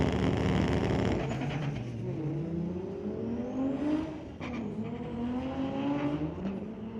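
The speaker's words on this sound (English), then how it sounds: "That's a quick Supra." A Toyota Supra launches down a drag strip at a street-legal drag night, its engine roaring loud and near before rising through gear changes with repeated upward sweeps as it pulls away.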